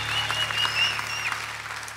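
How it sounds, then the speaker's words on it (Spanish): A church congregation applauds the king during a sermon, a steady wash of clapping at moderate level with faint tonal ringing above it and a low hum beneath. "¡Denle un aplauso al rey!"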